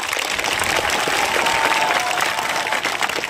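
An audience claps steadily at a political rally in Sagar, a thick, continuous wash of applause from a large crowd that holds at full strength throughout.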